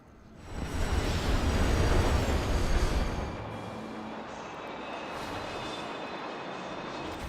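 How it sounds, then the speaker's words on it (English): A train rumbles past in Destiny 2: Forsaken, a loud heavy roar that swells over the first few seconds and then settles into a steady, softer rolling drone, with no voices. "Whoa, train."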